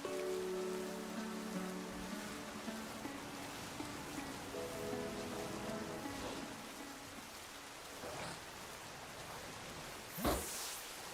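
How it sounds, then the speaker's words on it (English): Rain falling in a Pokemon video game, a steady hiss of rainfall held at low level throughout, with faint game tones early on and a brief sharper burst near the end. "I need this rain to stop"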